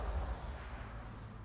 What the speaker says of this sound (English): I love that you can hear the gunshot afterwards.